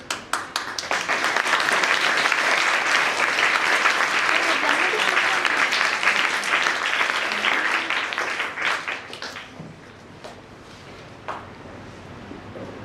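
A high school audience claps together in a dense, sustained burst that fills the room for about nine seconds, then thins out into a few scattered claps.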